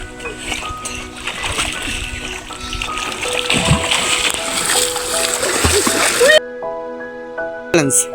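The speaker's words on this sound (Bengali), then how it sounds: "সাঁতার চ্যালেঞ্জ। ওই পাশ থেকে কে আগে আসতে পারে?" Children splash and swim in a village pond, churning water loudly and steadily for several seconds, with excited voices talking and shouting over the splashing before it drops off abruptly.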